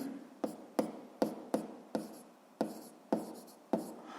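A pen writes a physics formula on paper in a rapid series of about ten distinct tapping and scratching strokes, close and quiet, with short irregular pauses between them.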